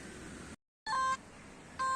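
A metal detector gives a steady tonal signal beep while someone is detecting by a river. Two short electronic tones come a moment apart, each over field noise, with a brief dropout between them.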